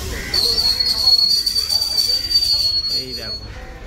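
A Kolkata Circular Rail local train running between Majherhat and Dum Dum, a loud steady rumble of rolling wheels with a long high wheel squeal, heard from on board with no talk.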